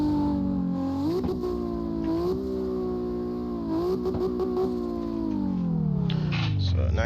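A 900-horsepower drift car engine revs hard through a run of rising and falling pulls, loud and near, with sharp shifts and a final drop in pitch, under a voice talking.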